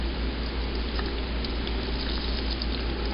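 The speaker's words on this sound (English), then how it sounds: "Oh yes, we have some bubbling going on." Apple pie brandy moonshine mash with apple chunks and raisins fermenting, a dense steady fizz of tiny bubbles popping up close, continuous and even, with no voices.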